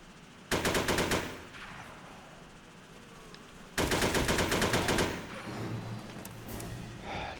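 Automatic gunfire in the SOCOM US Navy Seals video game, two long loud bursts of rapid shots about three seconds apart, with quieter background game noise after the second burst and no talking.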